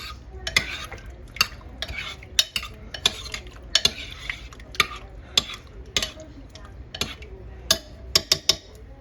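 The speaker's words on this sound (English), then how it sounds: "It says basically just to sprinkle it over the top and then stir it in." A spoon stirs cornstarch into a crockpot peach cobbler, giving a run of quick, close scraping and clinking strokes against the pot that come in irregular bursts.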